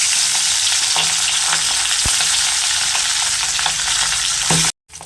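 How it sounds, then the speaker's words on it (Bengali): Pabda fish fry in smoking-hot oil in a wok, giving a loud, continuous sizzle with occasional sharper spits and crackles, close up and with no talking, ending in a brief silence. "এই স্টেজে মাছগুলো ছেড়ে দিতে হবে ভাজার জন্য।"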